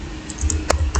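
Typing a command on a computer keyboard while configuring a network switch: a short burst of quick, close keystroke clicks over a faint low hum.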